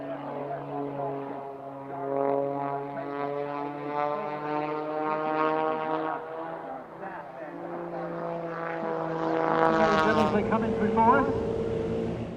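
A CAP aerobatic propeller plane performs slow yaw manoeuvres at an airshow, its engine a tonal, harmonic drone that shifts pitch as it climbs and turns, swelling louder near the end.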